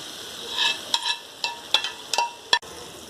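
Vegetables fry in a pan for pesto pasta, with a soft sizzle under a series of sharp clinks and scrapes of a spoon against the pan, ending in one louder knock.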